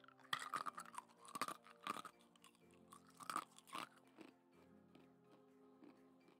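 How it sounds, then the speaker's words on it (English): Ice being chewed and crunched up close after sips of lemon water, a string of sharp, bright crunches in irregular bursts with quieter gaps between, over a faint steady musical background. "crunch and munch on some ice"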